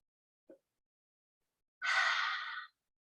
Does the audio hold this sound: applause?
no